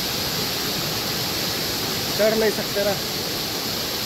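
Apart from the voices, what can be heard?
water flowing out of a cave-like rock opening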